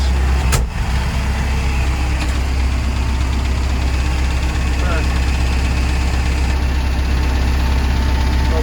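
Tractor engine driving between rows while hoe-cultivating a sunflower field after rain, a steady loud low drone running throughout with one sharp knock early on.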